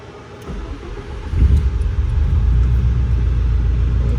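A car on a dyno during a tune cranks over and starts, then settles into a steady, loud, low rumbling idle close by.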